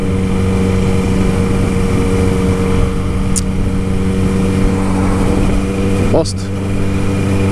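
A motorcycle engine drones steadily while riding in traffic, a close, even hum throughout with a brief voice over it.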